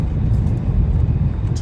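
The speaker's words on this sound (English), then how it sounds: "2012 Vauxhall Insignia. It's the 2-litre EcoFlex diesel." Low rumbling engine of a 2012 Vauxhall Insignia 2-litre EcoFlex diesel, steady and close, with no voices.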